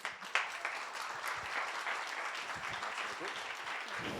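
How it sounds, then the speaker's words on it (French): Audience applause at a talk on artists in the entrepreneurial age, a dense steady clapping that fills the whole stretch at even loudness, with a few sharper claps standing out near the start. "Maintenant, applaudissez"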